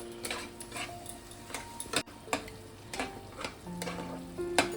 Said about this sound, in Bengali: এটাকে আমি আবারও ভালো করে মিনিট দুই তিনে কষিয়ে নেবো